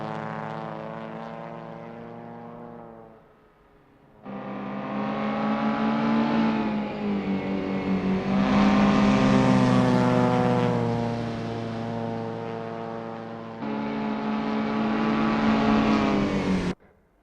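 A classic touring car laps Union Island in the Assetto Corsa racing sim, its engine droning loud and steady with rising and falling revs, briefly dropping off near the start before surging back on throttle.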